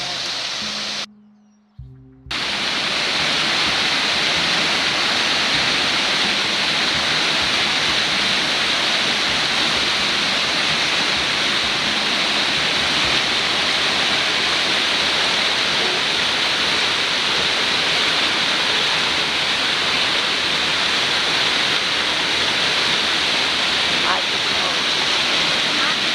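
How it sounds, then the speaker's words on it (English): A waterfall in Brazil's Atlantic Rainforest roars as a loud, steady broadband rush at close range. Its flow continues unbroken after a brief dropout near the start, with no talking over it. "Another waterfall."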